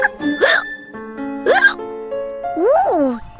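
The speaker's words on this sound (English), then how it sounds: "I've got hiccups" Cartoon hiccups from the children's show Horrid Henry: three sharp, separate vocal hiccup bursts, evenly spaced and close, with a sustained voiced tone running between them.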